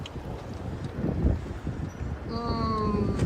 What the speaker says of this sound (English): Oh, the wind just picked up so much.